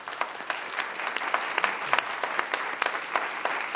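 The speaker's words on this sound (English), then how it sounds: "I just wanted to really thank all of you and give you a round of applause." A scattered round of audience applause at an AIA gathering, individual claps distinctly audible in an uneven rhythm, moderately loud and fairly close, with no talking over it.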